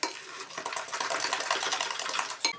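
Banana cake batter stirred in a bowl, a quick continuous scraping and clinking of utensil against the bowl, close and fairly quiet.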